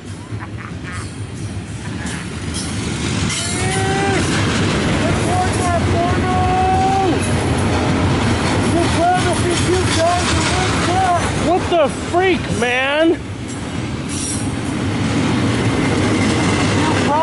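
A train rolls past close by with a loud, steady rumble and scattered squealing tones lasting most of the stretch, while people shout and talk excitedly over it.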